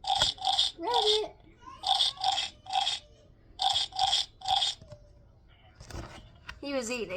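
A pet rabbit munches a carrot up close, crisp crunching bites arriving in quick rhythmic bursts with brief pauses, while a few short voices break in near the end.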